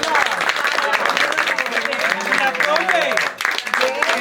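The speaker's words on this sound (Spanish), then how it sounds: "Muchas gracias y démosle un aplauso a la Paola." A room full of people claps enthusiastically in a dense burst of applause, with a voice speaking over it near the end.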